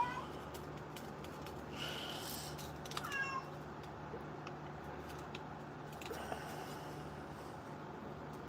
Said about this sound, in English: She's gonna meow. She's a super loud meower.